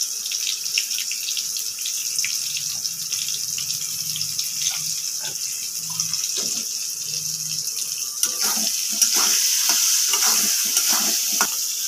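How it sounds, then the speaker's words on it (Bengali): Water is poured into a hot pan of mango and mourola fish chorchori cooking with turmeric. Steady sizzling and stirring give way to a louder, rougher hiss and splashing near the end. "এবার আমি দিয়ে দেবো একটু জল।"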